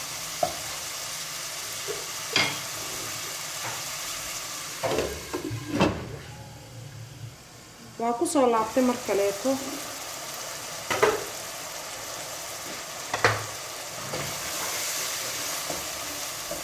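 Boiled macaroni sizzles in a pan. Stirring scrapes and clatters break in now and then, and a voice speaks briefly near the start.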